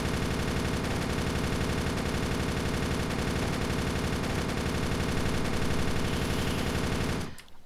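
An MG240 machine gun firing on full auto in the video game Darkest Days: one continuous, rapid stream of loud, evenly spaced shots lasting about seven seconds, then cutting off abruptly.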